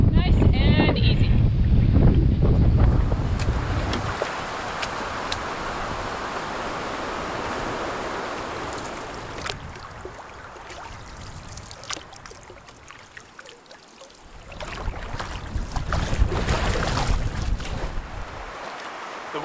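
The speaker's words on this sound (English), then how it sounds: "The wind is getting pretty crazy out there" Strong wind gusting during a wilderness canoe trip, a roaring rush that is heavy at first, eases off in the middle and surges again near the end, buffeting the microphone.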